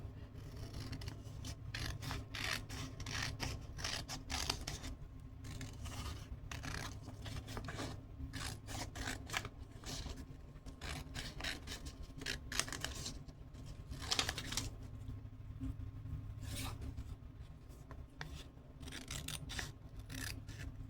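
Scissors snip through paper as a dragon design is cut out by hand, giving a run of close, quiet crisp cuts and rustles at an irregular rhythm.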